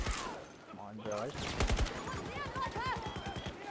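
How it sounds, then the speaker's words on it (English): Rapid gunfire from a first-person shooter video game, a fast automatic rifle with a 31-round magazine, crackling in quick bursts while a voice talks over the shots. "Now that I'm so using the gun, headshots are only like 2 shots"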